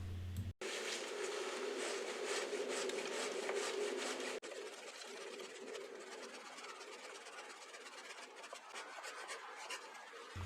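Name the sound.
sawing a kousa dogwood branch during winter pruning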